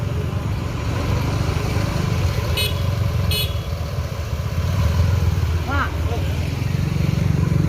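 Loud, steady engine rumble of the ANS Thailand Ababil bus up close, with short horn-like tones and a brief rising whine, while people talk over it.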